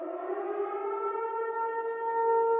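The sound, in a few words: civil defense siren in a Silent Hill styled ad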